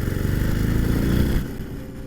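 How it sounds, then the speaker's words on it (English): A Harley-Davidson Iron 1200 Sportster engine snapped to wide-open throttle, giving a loud, close, deep pulsing roar that climbs and then drops off after about a second and a half, with no talk over it. "I'm gonna just whack on the throttle wide open"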